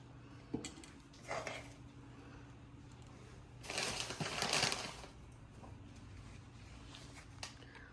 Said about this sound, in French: on va hacher la coriandre vraiment finement